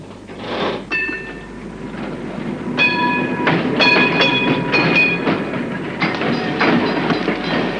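Tram running through central Buenos Aires, a loud rolling rumble with rhythmic wheel clatter, metallic squeals and bell-like tones rising and falling throughout, no voices.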